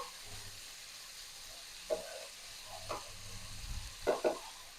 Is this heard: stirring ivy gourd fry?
yes